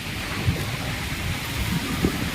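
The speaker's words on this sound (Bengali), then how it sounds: "এত বাতাস বইছে কি বলার কথা না" Strong storm wind buffets a rooftop in Farakka, Murshidabad, a loud, constant roar with gusty rumbles pressing against the microphone.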